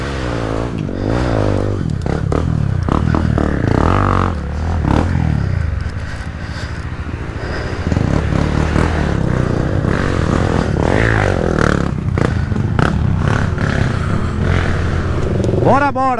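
Trail motorcycles riding off-road, engines revving and sputtering close by amid scraping and clattering over rough ground, with people talking and shouting over the noise.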